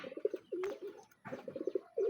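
Pigeons coo close by in soft, throaty bursts, a few rounded calls repeating with short pauses between them.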